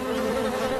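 A cartoon swarm of bees drones in a dense, steady, close buzz that holds without a break, with no talking.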